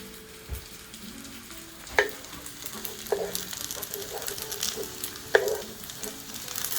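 Chicken momos fry in a little oil, sending up a continuous close sizzle broken by a few sharper pops and clatters at scattered moments, with no speech.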